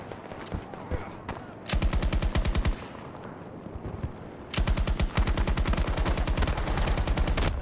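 Automatic gunfire in the Battlefield 2042 video game: two long, loud bursts of rapid, evenly spaced shots with a shorter burst between them, and quieter battle noise in the gaps.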